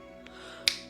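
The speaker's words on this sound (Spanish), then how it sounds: "el nigromante chasqueaba los dedos" A necromancer snaps his fingers once, giving one sharp, close, crisp snap after a fainter tick, over a quiet ambient bed.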